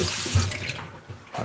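Hands being washed under a running kitchen tap, a steady close splash of water hitting hands and sink with brief surges as the hands move through the stream, no talking.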